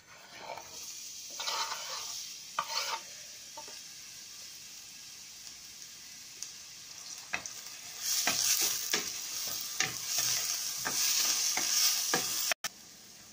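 Onion frying in oil for a potato chicken curry: a soft hiss at first with a few clatters, then a louder, busy crackling sizzle and stirring scrapes through the second half.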